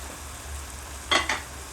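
Chili flakes tossed into a moringa flower and meat dish frying in a pan: a steady low sizzle, then two brief bright bursts of crackle as the flakes hit the hot oil, close and fairly quiet.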